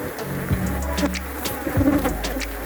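Africanized honey bees at an apiary in Trinidad buzz steadily and close, with individual bees droning past the microphone over a continuous swarm hum.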